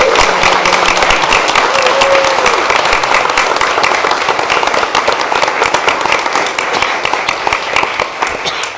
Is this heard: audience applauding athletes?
yes